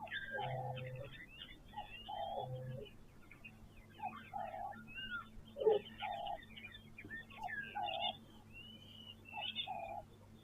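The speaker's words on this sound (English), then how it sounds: "all the birds are chirping really nicely now" Birds call at a waterhole, repeated short chirps and whistled notes in a steady rhythm, fairly faint against a low background hum, with one brief louder call near the middle.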